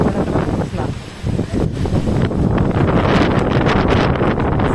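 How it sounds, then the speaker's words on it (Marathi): Strong storm wind with unseasonal rain in a village, loud gusts buffeting the microphone that ease briefly and then build to a sustained, heavy roar. "एवढं भयानक वारं सुटतंय"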